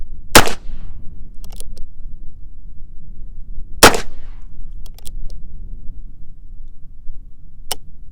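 Two loud, sharp shots from a Heritage Rough Rider revolver fired at a target, a few seconds apart, each followed by faint metallic clicks, with a third softer click near the end against quiet outdoor background.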